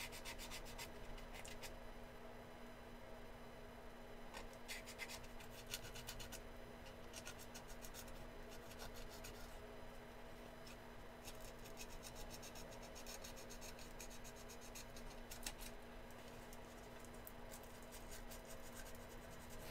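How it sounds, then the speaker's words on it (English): A small scrap of sandpaper rubs steadily across a surface during a painting build, a soft continuous scratchy friction that carries on through the whole stretch with short brighter bursts, over a faint steady hum. "Let's see how small of a piece of sandpaper I can use before I get another piece"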